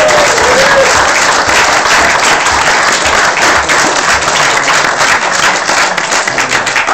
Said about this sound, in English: Oh, definitely a clap in many places there.